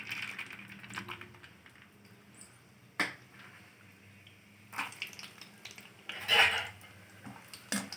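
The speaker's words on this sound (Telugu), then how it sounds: "ఇప్పుడు ఇంట్లో కొన్ని పల్లీలు పోసుకుందాం." Peanuts poured into a pan while preparing a homemade South Indian snack mixture: faint scattered clicks and light rattling, with a few sharper taps and a brief louder clatter of nuts near the end, all fairly quiet and sparse.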